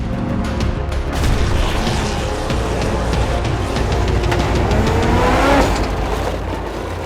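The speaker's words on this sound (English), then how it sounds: "The worst victim was Californian Tom Liu, coming down into the last leg and taking a serious hit" Off-road race car at King of the Hammers pounding down a rocky final stretch and taking a heavy hit, its engine roaring loudly and steadily with clattering impacts and scraping throughout, no voices.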